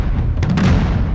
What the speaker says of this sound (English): We have damage drums